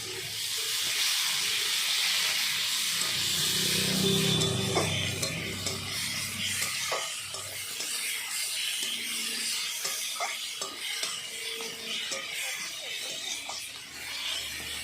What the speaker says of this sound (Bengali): বেটে রাখা লঙ্কা, জিরে, ধনে, আদা এর মধ্যে দিয়ে কষিয়ে নেব